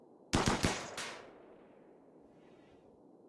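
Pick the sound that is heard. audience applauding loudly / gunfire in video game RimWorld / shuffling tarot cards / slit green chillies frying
gunfire in video game RimWorld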